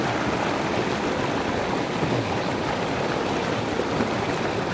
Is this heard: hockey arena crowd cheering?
no